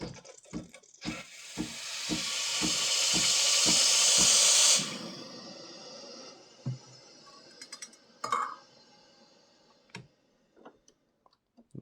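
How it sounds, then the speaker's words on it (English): Steam wand purge on a Breville Barista Express espresso machine: a few ticking clicks, then a loud, steady hiss of steam for about three seconds that cuts off sharply, followed by scattered small clicks and taps. "So I'm just going to purge the steam wand, of course."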